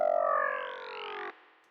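Indus Noise one-shot synth effect preset: a single harmonic tone that starts loud and bends upward in a rising sweep, fading slightly before cutting off abruptly after about a second, alone with no voice.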